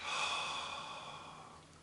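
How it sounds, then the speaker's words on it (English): One long, deep exhale from a breathing exercise, a soft close airy whoosh that gradually fades out. "and breathe out."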